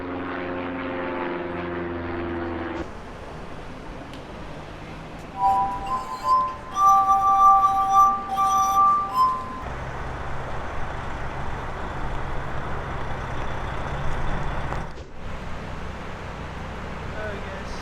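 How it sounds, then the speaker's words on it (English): A grinder cuts a piece of stainless steel, its whine rising with a loud, harsh grinding for about four seconds in the middle, between stretches of quieter background noise. "So I just gotta cut this other piece of stainless with our grinder"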